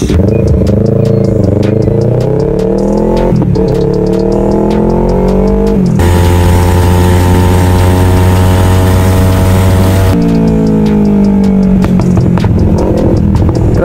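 A Yamaha R3 sport motorcycle engine runs loud and close, rising and falling through several revs with a steady held high-rev stretch in the middle before easing back down.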